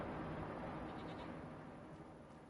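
Goats on a small farm bleating near a hay-filled pen, a steady wash of overlapping animal calls over constant background noise with no voices.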